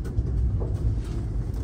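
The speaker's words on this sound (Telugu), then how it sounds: "దాదర్ నుంచి మన ట్రైన్ అయితే బయలుదేరిపోయింది" Passenger train pulling out of a crowded Dadar station in Mumbai, heard from on board as a continuous low rumble of wheels and carriage noise with no talking.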